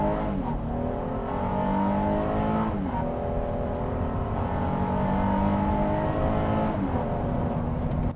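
A 2020 Honda Pilot Black Edition SUV drives at speed on the road, its steady engine drone and tire roar continuous and fairly loud, with pitch rising through gear changes and no talking.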